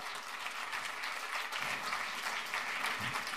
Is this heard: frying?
no